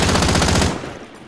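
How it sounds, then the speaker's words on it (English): Rapid automatic gunfire from Call of Duty Cold War Warzone, a loud burst of closely spaced shots that cuts off abruptly and leaves a short, quieter tail. "A few shots at him."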